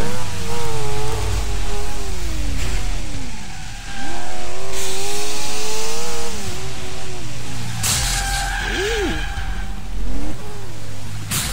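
A car engine revs and shifts while driving in the racing game Crash Time 3 Highway Nights, with loud, constant, rising and falling engine tones and occasional tyre skids.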